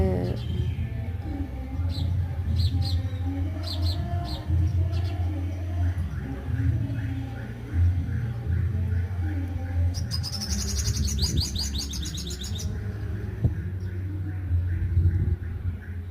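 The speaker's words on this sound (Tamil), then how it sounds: "மாடி தோட்டத்துக்கு ஒரு தேன்சிட்டு வந்திருக்காங்க" A sunbird perched on a hibiscus plant in a rooftop garden gives short, high chirps in scattered clusters over a steady low background, with a brief rapid trill partway through and a voice talking at times.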